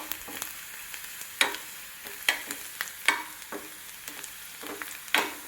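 Onions sauté in a pan for a curry with a soft, continuous sizzle, broken by several sharp scraping stirs of a spoon at irregular intervals.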